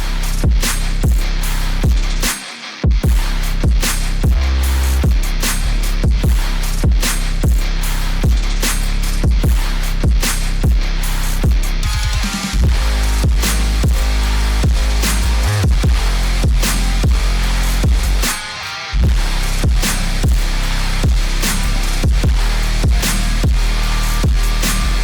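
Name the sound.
finished trap metal music track playing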